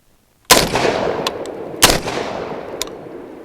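Two loud, sharp blasts from a Genesis Arms Gen 12 short-barreled 12-gauge shotgun firing double-aught buck, about a second and a half apart, each with a long echoing decay.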